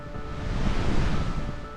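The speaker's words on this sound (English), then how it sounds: "This is one of the prettiest waterfalls you'll ever see." Steady, broad rushing roar of a waterfall in Iceland, loud and continuous, with some wind buffeting the microphone.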